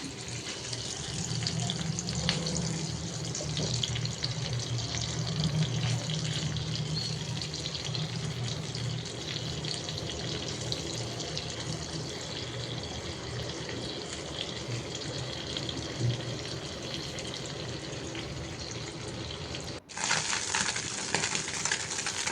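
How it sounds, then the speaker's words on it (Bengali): Small puti and mola fish fry in a pan with a steady, close, dense sizzle that runs without a break, then cuts off briefly near the end before picking up again. "এখন মাছগুলো ভেজে নিব, ভাজা বসাবো।"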